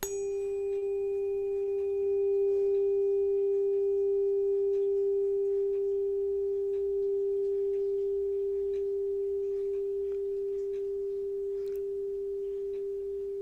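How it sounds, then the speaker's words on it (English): A struck tuning fork rings out as one pure, steady tone that holds evenly and slowly fades over many seconds against quiet background hiss. "I'm going to sound a tuning fork."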